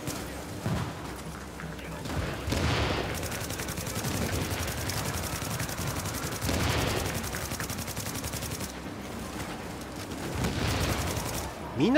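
Gunfire in Tom Clancy's The Division, with repeated bursts of automatic weapon fire and booming shots in a busy game firefight, moderately loud, while someone talks over it.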